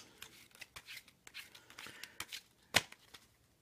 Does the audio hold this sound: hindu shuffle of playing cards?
yes